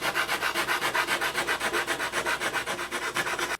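A small custom sanding block rubs rapidly over fiberglass cloth in close, steady strokes, a dry rasping rhythm of about five passes per second that continues without pause or speech.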